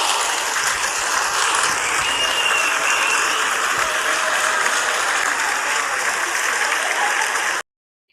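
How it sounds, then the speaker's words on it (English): Studio applause from people in the building during a morning radio show, a steady dense clapping that holds loud and even for about seven and a half seconds before cutting off abruptly. "So I got to get the black people to clap it up one time."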